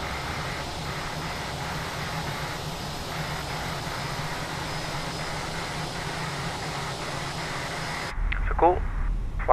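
Airbus A320 jet engines by Fenix in Microsoft Flight Simulator, flying Zurich to Zagreb, give a steady broadband roar with a faint whine. The roar runs unbroken, then gives way near the end to a brief clunk and a short rising tone.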